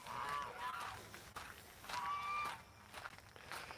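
Several geese honk near water, loud nasal calls in short bursts close by, with soft footsteps shuffling between the honks.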